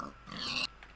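A single short pig grunt from Minecraft, a bright, nasal oink of under a second, heard close and alone.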